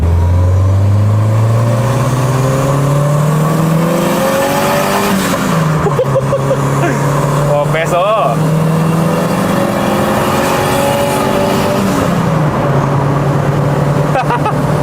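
A loud turbocharged single-overhead-cam Honda D16 engine in a Civic revs steadily, pitch climbing and dropping in repeated sweeps, with brief exclamations from a person over the constant roar.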